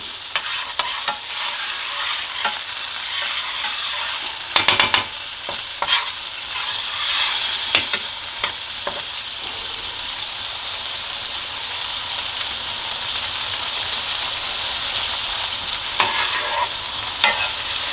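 Steak sizzles and fries in melted butter in a hot pan, a steady close crackling hiss with occasional sharper pops and spatters, heard alone with no talking.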